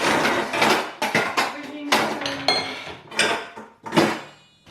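Metal pots and pans clanking and knocking in a home kitchen during curry cooking, a series of sharp irregular clatters with brief ringing, close and fairly loud, with short pauses between handling.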